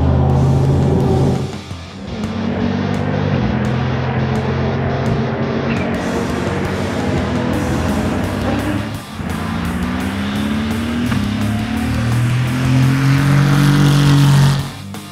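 Super GT race car on dry tyres lapping Fuji Speedway during a test day, its engine roaring loud and near as it revs through gear changes, dipping between shifts then climbing again.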